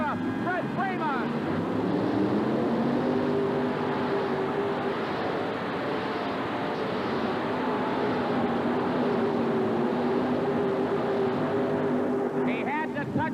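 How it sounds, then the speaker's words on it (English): A supercharged four-wheel-drive pulling truck roars at full throttle during a 1988 Birmingham truck and tractor pull, a loud, sustained, steady engine drone with a voice talking over it. "Watch his right hand on the throttle. Watch those butterflies open up with a supercharger."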